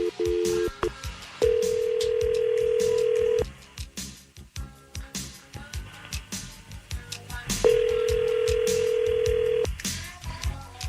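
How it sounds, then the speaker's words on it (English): A phone line rings twice in long steady tones, with quiet clicks and soft background sounds between the rings. "We're calling him up."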